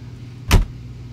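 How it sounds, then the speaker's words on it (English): A cockpit door shuts in an X-Plane 11 Boeing 737 flight simulator game, one short loud thud over a faint steady cabin hum. "if I may, I'll just close that door"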